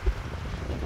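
Light wind blowing across a beach at Playa de Palma, Mallorca, a steady soft rumble of wind against the microphone with no voices.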